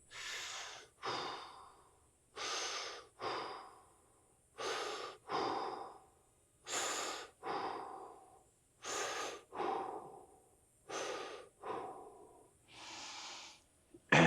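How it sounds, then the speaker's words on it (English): Slow, deep breathing during a lower-body fascia stretching routine, with about a dozen close, loud inhale-exhale cycles in a steady rhythm and no talking. "Breathe in."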